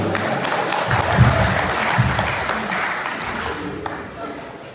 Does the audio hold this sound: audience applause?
yes